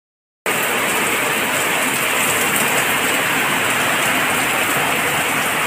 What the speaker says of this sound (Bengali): বৃষ্টি চলে এসেছে মুষলধারে।